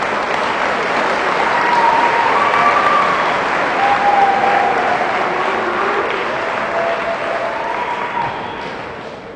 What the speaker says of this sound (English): please give these kids a big round of applause for all their hard work